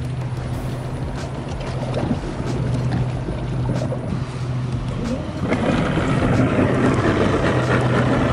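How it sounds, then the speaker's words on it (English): Bass boat engines drone and rumble nearby at Lake Fork, Texas, as boats are launched, with wind buffeting and water churning, the motor noise swelling louder toward the end. "they are dropping the boats in the water now"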